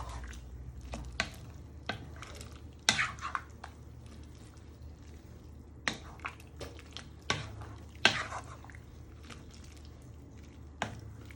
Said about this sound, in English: So you're just stirring in your seasoning of black pepper into your pan.